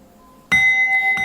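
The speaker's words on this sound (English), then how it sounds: "Ting ting, a bell rings from somewhere." A bell rings in a lively Himalayan village home in Nepal, a single bright struck tone with a lingering ring and a second fainter strike near the end, following a quiet moment, close and clear with no talk.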